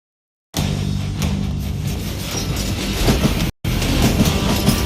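A train rolls along rails in the Western shooter Call of Juarez: Gunslinger, a loud, steady rumble with faint wheel clatter that cuts out for a split second before resuming.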